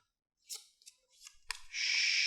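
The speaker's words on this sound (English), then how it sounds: "Still shuffling." Cards shuffled for the board game Fields of Green with Grand Fair, a few soft close riffling flicks and taps that end in a longer crisp bridge-like rush, quiet and alone.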